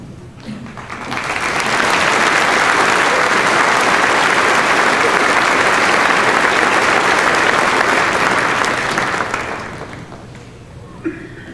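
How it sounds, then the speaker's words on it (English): A large audience applauds students receiving awards at the Mineral Area College 2019 commencement, swelling into a loud, sustained roar of clapping for about eight seconds before tapering off. "then we will give them a round of applause"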